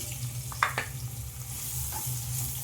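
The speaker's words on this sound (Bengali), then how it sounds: "আবারও আমি ভালো করে পেঁয়াজটা একটু ভেজে নেব আদা রসুনের সাথে" Chopped onion frying in oil with ginger and garlic for a mung dal tadka, a soft steady sizzle with a low hum and a few brief scraping stirs near the start, close, no talk.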